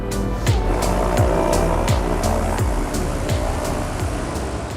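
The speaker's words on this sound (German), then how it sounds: "Marco und Ramona checken Ruder und Motoren." Engines of a Zeppelin airship are run up during pre-flight checks before flying to Frankfurt Airport, a loud close droning whir with rhythmic repeating pulses throughout, no voices.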